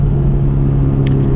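A Honda S2000 hums along while being driven, giving a loud, close, steady low engine drone and road rumble from inside the cabin, with a brief faint tick near the end.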